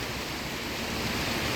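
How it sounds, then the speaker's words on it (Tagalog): A river flows steadily near Saalbach and Zell am See in Austria, clear water rushing loud and close in a constant full wash, without pause. "ilog, yung maririnig mo dito"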